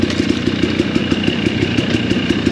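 Dirt bike engine running on a single track trail in Idaho: a steady, rapid, throbbing putter with a fast regular pulse, close and fairly loud, without any talk.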